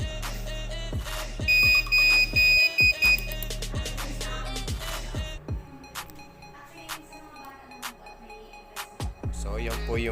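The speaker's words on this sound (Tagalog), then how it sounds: "HDD error. So, dyan po nang gagaling yung beep sound na masakit sa tenga." A CCTV DVR recorder beeps loudly and shrilly because of a hard drive error, sounding as a few repeated beep bursts over steady electronic hum and music, with no one talking.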